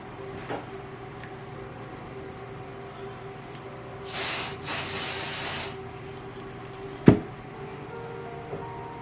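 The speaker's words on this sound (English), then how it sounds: "So I'm going to spray some on the back and make sure they're sticking together." Aerosol spray adhesive is sprayed onto mesh embroidery stabilizer sheets in one close hissing burst of about a second and a half, followed by a sharp tap, in an otherwise quiet room.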